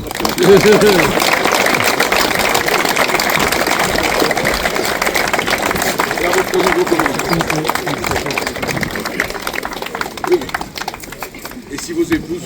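Applause at a French military change of command ceremony for a Verdun chasseurs squadron, dense sustained clapping from a gathered crowd with a faint voice underneath, tapering slightly toward the end.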